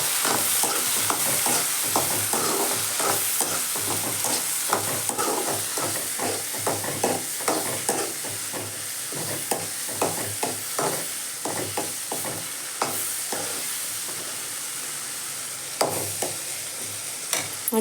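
A large chopped onion stir-fried in hot oil for tempering tamarind kuzhambu with manathakkali seeds, with a continuous sizzle and frequent scraping spatula strokes, close and steady throughout without talk.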